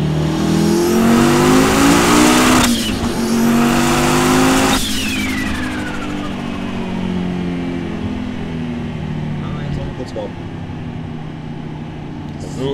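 A car driving on a downhill road with a faulty gearbox that has lost second gear, its engine revving up and down through the gears in a steady rising and falling drone, loud and close, with some low talk mixed in.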